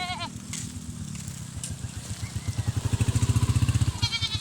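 Goats bleat on a farm in the Philippines, wavering cries near and loud, with a rapid pulsing rattle building in the later part and brief calls at the start and end.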